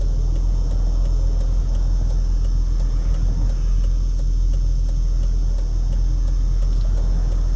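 A car drives through East Las Vegas city traffic near Desert Inn road, with a loud, steady low engine and road rumble filling the cabin and a faint repeating tick throughout.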